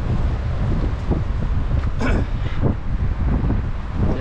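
Wind buffets the microphone on a fishing boat at sea, a loud steady low rumble with gusty swells and faint knocks throughout, no clear voices.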